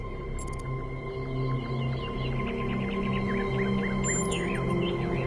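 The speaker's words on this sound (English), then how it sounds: "Do you hear the birds chirping outside the dome?" Birds chirp and tweet in repeated short calls over a steady ambient hum, heard outside a dome in the video game Talos Principle II, with bright bursts of song near the start and again toward the end.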